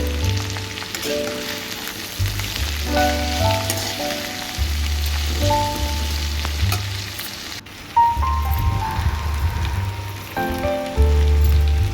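Okra frying in a pan with turmeric and being stirred, a continuous close sizzle broken by scraping stirs and spatula clinks, with no talk.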